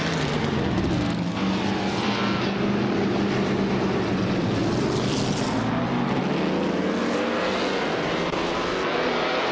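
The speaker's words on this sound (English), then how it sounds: "Hope you're ready for some exciting AI car races." AI-driven race cars in a video game roar past continuously, a loud sustained engine drone with shifting pitch and no speech over it.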